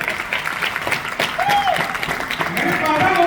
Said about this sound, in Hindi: अरे क्या बात है, जोरदार तालियां।